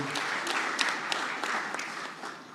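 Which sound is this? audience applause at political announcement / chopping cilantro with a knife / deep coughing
audience applause at political announcement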